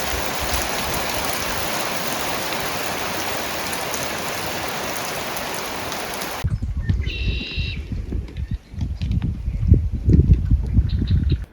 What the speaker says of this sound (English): 45 today and raining